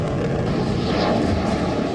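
Steady, loud roar of a Sukhoi fighter jet's engine at an airbase, a continuous broadband rumble with no pauses.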